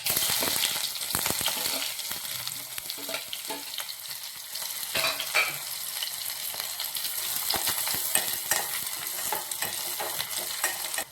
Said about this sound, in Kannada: ಒಂದು ಬಾಂಡೆದಾಗ 2 ಚಮಚದಷ್ಟು ಎಣ್ಣೆ ಹಾಕ್ತೀವ್ರಿ. ಸಾಸಿವೆ, ಜೀರಿಗೆ, ಉಳ್ಳಾಗಡ್ಡೆ ಹಾಕ್ತೀನಿ